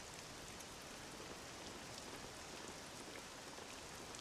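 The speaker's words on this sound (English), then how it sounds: "This accursed rain'll chill ye to the bone." Steady rain falls in a dark medieval setting, a dense, even hiss of drops pattering on surfaces, close and unbroken throughout with no voices.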